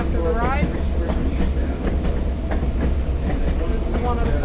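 A vintage caboose of a scenic excursion train rolls along through the gorge, giving a steady loud rumble with rhythmic wheel clatter and occasional squeals, close and continuous with no one speaking.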